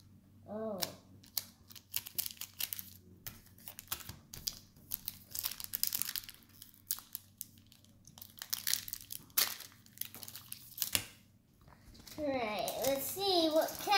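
A Pokemon card pack tearing open: crinkly wrapper crumpling and ripping close up, mixed with someone talking and excited voices near the end.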